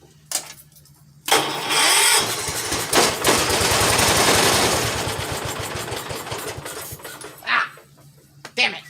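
An old 212 engine cranks and catches, then runs roughly at lowest throttle with a loud, uneven mechanical chatter for several seconds before dying. Brief spraying bursts follow and a voice is heard.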